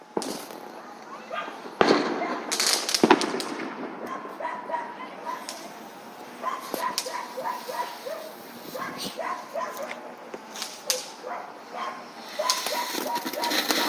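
Fireworks shoot off outdoors in a string of sharp cracks and bangs with sputtering bursts between them, while a dog barks and whimpers and people talk nearby.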